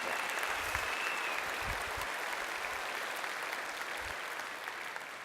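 Audience at a University of Waterloo convocation ceremony applauding a university administrator, steady sustained clapping from a large seated crowd in a hall, fairly distant and even throughout.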